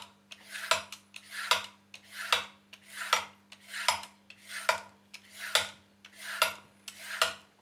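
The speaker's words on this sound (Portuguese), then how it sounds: "E vamos sempre desbastando a courgette" A courgette being shaved into thin strips, about ten steady, evenly spaced rasping strokes close up, each a short scraping swell over a faint constant hum, with no talk.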